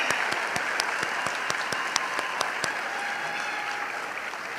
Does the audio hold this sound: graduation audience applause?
yes